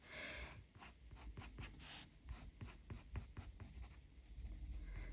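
A Derwent Chromaflow colored pencil scratches across paper in quick, close strokes with a steady, rhythmic texture as hair is shaded and blended in a wildflower folk drawing; no voices.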